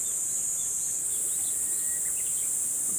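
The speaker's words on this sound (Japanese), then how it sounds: "セミ鳴いてます。" Cicadas drone outdoors along a ridge road on a July summer bicycle trip, a loud, steady high-pitched shrilling that fills the whole stretch without pause, with faint bird chirps scattered underneath.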